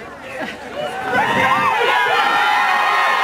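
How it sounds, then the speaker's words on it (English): A crowd at a Rose Parade band celebration cheers and whoops for the band instructors, voices swelling from scattered shouts into a loud sustained mix of cheering and chatter. "You can clap."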